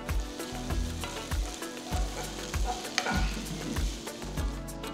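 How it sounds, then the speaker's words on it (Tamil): Fried garlic added to onions sautéing in a pan for spicy garlic chicken: a steady close sizzle with rhythmic stirring and scraping strokes roughly every half second, continuous and moderately loud, no voices. "இப்போ வறுத்த பூண்டு சேர்க்குறேன்"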